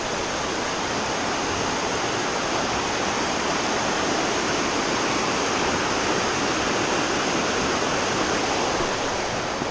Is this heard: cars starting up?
no